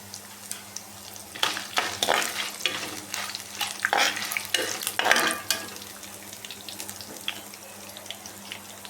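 Chillies frying in a pan for gongura pulihora, giving a steady low sizzle under repeated scraping and stirring strokes, close by and moderately loud, with no talk.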